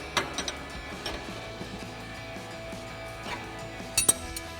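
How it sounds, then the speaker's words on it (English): Set nuts tightened with a wrench on the adjustment rod of a Five8 Industries SS coilover on a 2005–2014 Mustang, giving a series of close metallic clicks and ratcheting ticks over a faint background hum. "17 on our set nut, tighten our top one, followed by our bottom one"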